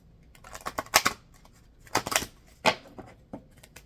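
Tarot cards riffle and slap together in quick clustered bursts, close up, with short pauses between shuffles.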